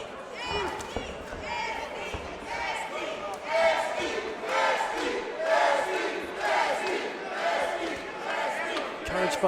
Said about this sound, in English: Encouraged by the crowd.